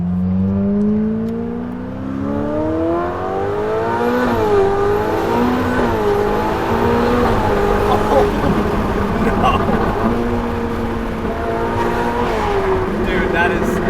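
A 900hp Ferrari F8 Tributo fitted with Pure Turbos pulls hard on a freeway, its engine note climbing through rising, stepped gears in a loud continuous roar from inside the cabin, with people talking over it.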